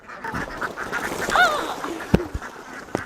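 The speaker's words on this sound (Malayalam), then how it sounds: "ഈ താറാവുതേ കണ്ടോ" River ducks kept on a home farm beside a tarpaulin-lined pond let out a single clear quack midway, with a few soft thumps and faint background noise around it.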